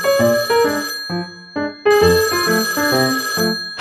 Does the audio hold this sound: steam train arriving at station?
no